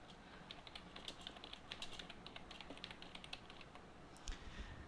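Typing on a computer keyboard while writing text into a Microsoft Office document, a quiet, steady run of rapid key clicks heard alone with no talking.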